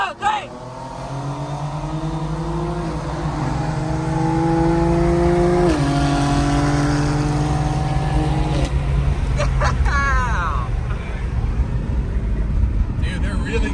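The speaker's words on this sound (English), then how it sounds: "I want to try doing a roll race with it because I want to use my anti-lag" A BMW M4 tuned with anti-lag accelerates hard through a roll race against a fast SUV, its loud engine note climbing steadily through the gears with a sharp shift partway through, then roaring on close by.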